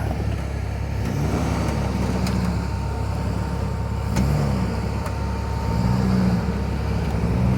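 A Jeep engine labouring up a steep hill on the Fordyce Trail, a steady low rumble with slowly rising and falling revs, close and continuous.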